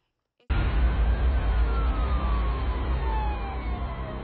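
Sirens wail loudly and continuously in Mexico, a slowly falling tone riding over a dense, rumbling street background from start to finish, with no voices.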